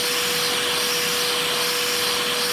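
A giant LEGO 12x12-piston vacuum engine turning slowly at about 85 RPM, heard as a continuous airy whooshing hiss with a steady faint tone beneath, close and unbroken, with no speech.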